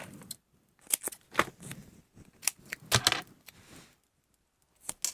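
Scissors snip through paper during scrapbooking craft work, a series of quick crisp cuts in irregular bursts, fairly close and alone.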